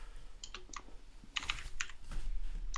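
Keystrokes clatter on a computer keyboard in short bursts of clicks with pauses between, close and fairly quiet over a low background hum.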